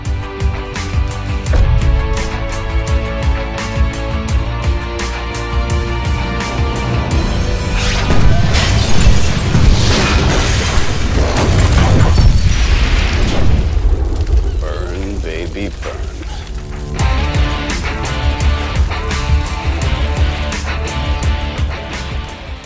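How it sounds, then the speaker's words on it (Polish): A car blows up in Grand Theft Auto IV after a cheat detonates the nearest vehicle, with booming, crashing blasts and debris swelling through the middle of the scene over ongoing game noise. "To nam wóz eksploduje najbliższy."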